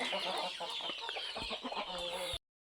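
Many native village-breed chickens cluck busily together at a poultry farm, a dense overlapping chatter of hens nearby that stops abruptly.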